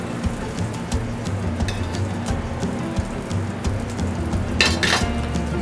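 Braised artichokes sizzle in a boiling pan of artichoke stock, a steady close frying crackle with a brief louder hiss burst near the end and no talk.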